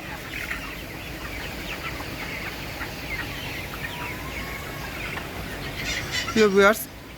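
Broiler chickens near market weight on a raised slatted floor at a poultry farm cluck and murmur steadily in the background, with a sharper, louder squawk near the end.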